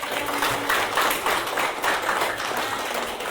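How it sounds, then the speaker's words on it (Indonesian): Students in an Indonesian classroom clap together during a lesson, a loud, close burst of steady applause that carries on evenly without speech. "Terima kasih tepuk tangan dulu buat"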